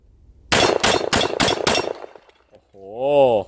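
A BUL SAS II compact 9mm pistol, modified for competition, fires five rapid, loud, close shots at a range, followed after a short pause by an electronic beep.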